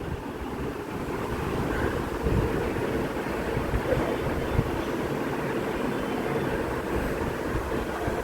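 Strong wind blows outdoors as a steady, loud, rumbling roar that buffets the microphone without a break.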